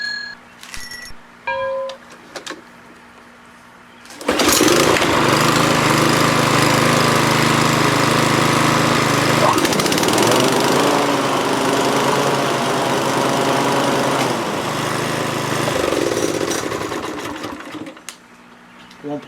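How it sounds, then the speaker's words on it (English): A Craftsman M430 lawn mower starts on a single pull after sitting about a week, then runs at a loud, steady roar for roughly thirteen seconds with its blades engaged before cutting off. A few short knocks come first. "Now I'll go ahead and start it and see if the blades actually engage."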